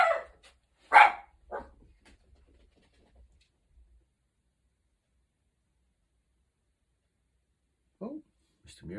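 A dog barks a few times close by in a quiet room, two loud barks near the start, a fainter one after, then silence before two more barks at the end.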